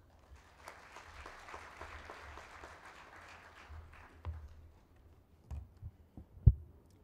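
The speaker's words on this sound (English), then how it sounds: "May I invite Joyce a round of applause." A round of applause from the audience at an African Union and UN wildlife economy summit in 2019 fades gradually over several seconds, ending in a few scattered, sharper claps.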